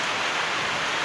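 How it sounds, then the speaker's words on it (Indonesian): Rain falls steadily in Balikpapan, East Kalimantan, a soft, even hiss of drops close by, faint and continuous without speech. "Ini pas hujan nih."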